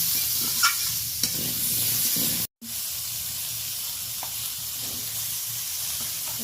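Kohlrabi fries in hot oil in a pan with a soft, continuous sizzle and occasional stirring clicks, interrupted once by a brief dropout into silence.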